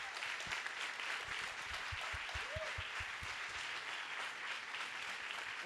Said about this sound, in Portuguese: Palmas para Marta.